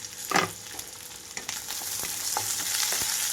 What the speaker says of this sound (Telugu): ఇక్కడ ఉల్లిపాయలు అంతా పర్ఫెక్ట్గా వేగిపోవాలండి రెండు నుంచి మూడు నిమిషాల పాటు మీడియం ఫ్లేమ్లో ఉంచుకున్నాను